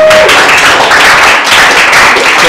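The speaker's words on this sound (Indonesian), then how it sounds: "kasih tepuk tangan untuk kelompok 2" Loud, dense clapping from an audience applauding a presenting group, a close, sustained burst with no gaps and no talk over it.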